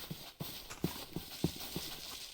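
Horse hooves clip-clopping in a Minecraft game world, a steady rhythm of about six soft thuds over a constant airy background.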